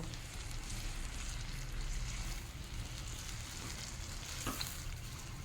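A prawn curry with kulfi greens is stirred in a pan over a high flame after water is added, giving a steady close sizzle and bubbling boil with a light scrape of the spoon near the end.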